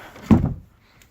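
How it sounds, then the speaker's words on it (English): The latched wooden door of an air compressor shed swings down and lands with a single close, dull thunk, followed by a short fading rattle. "let's undo a little latch. The door swings down."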